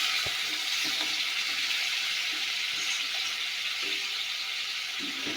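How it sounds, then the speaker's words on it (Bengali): Water poured into a frying pan of spice paste, with chili powder, for a Bengali fish curry sets off a steady, close hiss of sizzling and bubbling that holds evenly throughout, with no talk over it. "একটু জল দেব মশলাটা কষানোর জন্য"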